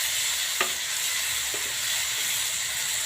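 Grape curry sizzling steadily in a hot pan as a spoon stirs and mixes it, with a few distinct scrapes over a continuous hiss.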